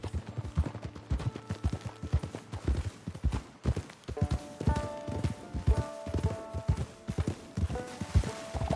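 Horse hooves clip-clop steadily in Red Dead Redemption 2 multiplayer, a brisk, even run of close hoofbeats continuing throughout with a faint tonal background.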